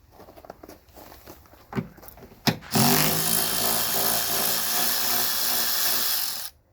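After a few light clicks and taps, a power ratchet whirs loudly and steadily for about four seconds while backing out 10 mm bolts on a Jeep Grand Cherokee lift gate, then stops abruptly.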